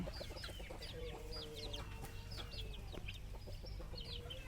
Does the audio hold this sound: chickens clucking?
yes